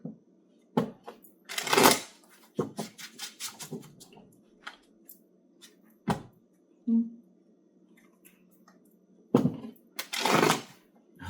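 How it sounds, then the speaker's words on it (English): Tarot cards shuffle in several quick riffling bursts with pauses between them, close and fairly quiet, alongside a few soft taps. "I can clearly tell that was bad shuffling on my behalf."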